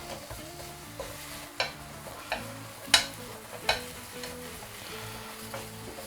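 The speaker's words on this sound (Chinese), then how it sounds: "直接干煎就好了，中小火。" Eggplant dry-fries in an unoiled flat pan over medium-low heat, giving a low, steady sizzle with occasional soft clicks and scrapes from turning.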